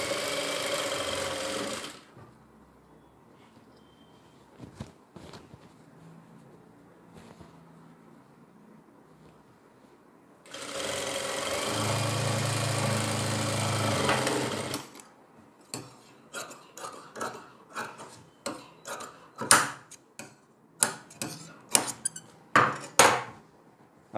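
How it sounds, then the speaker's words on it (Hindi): A sewing machine stitches a kurti sleeve in two steady running bursts, close and clear, separated by quiet handling; afterward come rapid clicks and taps of fabric and tools being adjusted. "हमें यहाँ पे सिलाई लगानी है ऐसे करके"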